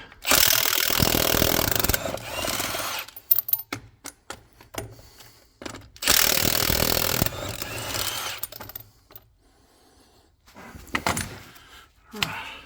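Wheel nuts being undone on the rear axle of an Iveco 75E15 truck with a seized differential, worked on site: two loud bursts of whirring power-tool rattle, each followed by scattered metallic clinks and knocks, close by, with no talk.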